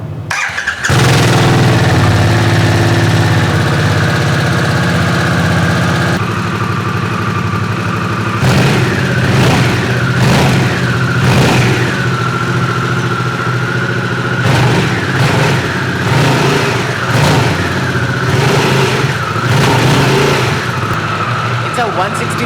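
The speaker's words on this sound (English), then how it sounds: "Okay, time to start the bike" A Harley-Davidson Sportster S motorcycle cranks and fires up loudly, then holds a heavy rumbling idle broken by several sharp revs with a squealing edge, close and dominant throughout.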